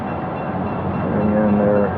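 A train passes at a moderate distance, giving a steady rumbling roar with faint metallic squeal tones that build slightly toward the end.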